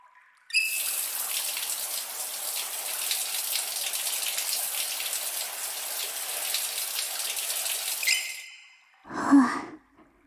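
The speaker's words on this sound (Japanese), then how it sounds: "チカル、そろそろシャワーで洗い流すよ。" A shower spray rinses someone off in an outdoor hot-spring bath, a steady close hiss of running water lasting several seconds, cutting off abruptly and followed by a soft breathy sigh.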